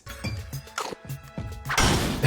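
Cartoon sledgehammer blows on a character's teeth: a series of sharp smashing thwacks and thuds spaced through the passage, ending in a louder, broader crash.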